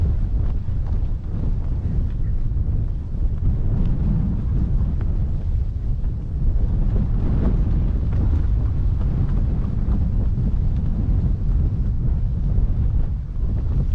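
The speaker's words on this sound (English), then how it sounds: "I suppose you can hear the wind is pretty strong this morning." Strong wind buffets the microphone outdoors at sunrise, a loud, steady low roar that fills the whole stretch without pause, with no talking over it.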